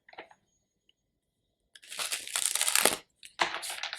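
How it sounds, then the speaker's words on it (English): Tarot cards are shuffled up close in two quick bursts of papery riffling and crinkling, with a soft tap at the start and silence between. "I'm gonna shuffle a few more cards to define this reading more"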